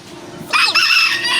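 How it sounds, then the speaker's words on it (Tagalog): A rooster crows once, loud and close, a drawn-out cock-a-doodle-doo cutting through a quiet outdoor hum. "Manok."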